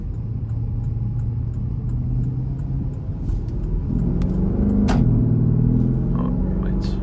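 A Porsche accelerates hard through a U-turn, its engine rumbling close and loud, the low growl climbing in pitch and volume during the pull.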